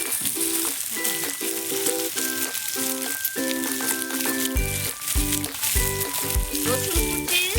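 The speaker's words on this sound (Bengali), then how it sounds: "বন্ধুরা, তেল গরম হয়ে গেছে। এবার আমি কড়াইয়ে দিয়ে দিচ্ছি পেঁয়াজ," Chopped onions hit hot oil in a wok for an egg masala pasta, and a bright steady sizzle runs beneath tuneful background music.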